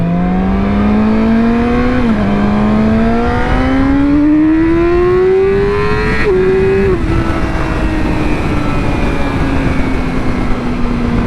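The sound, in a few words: sport motorcycle revving and accelerating, Yamaha R6 or Kawasaki Ninja 400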